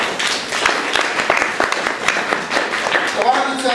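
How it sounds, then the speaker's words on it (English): A church congregation claps in praise in a steady, dense patter of many hands that fills the room, with voices calling out over the clapping. "let's give the Lord a clap of praise"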